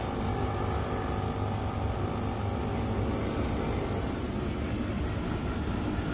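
The slave 2 outdoor unit of a VRF/VRV air-conditioning system, compressor running, produces a constant, loud whooshing drone with an even mechanical hum and no one talking.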